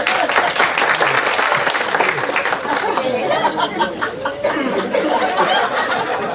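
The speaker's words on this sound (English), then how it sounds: "Thank you for that spontaneous applause." Audience at a Beacon Margate comedy show applauds steadily throughout, mixed with chatter and scattered chuckles from the crowd.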